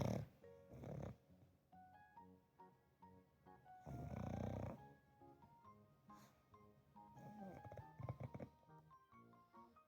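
Pug dogs snoring indoors, with loud rasping snorts in two heavy bursts among softer, steady breathing snores, close to the microphone.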